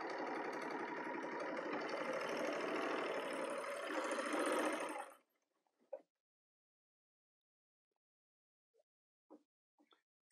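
A Bernina L800 air-threader serger with a gathering foot runs at speed, a dense buzzing machine whir that stops abruptly, leaving near silence broken by a few faint clicks.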